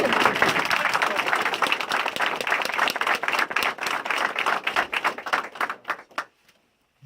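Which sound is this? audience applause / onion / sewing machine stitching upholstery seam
audience applause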